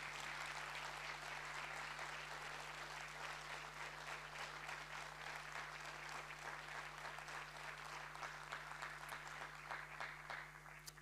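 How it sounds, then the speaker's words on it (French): Applause from a seated audience at a citizens' awards evening in Namur, Belgium, sustained dense clapping from many hands that holds steady, somewhat distant and soft, over a constant low hum, tapering slightly at the end. "encore un tonnerre d'applaudissements pour ces belles initiatives"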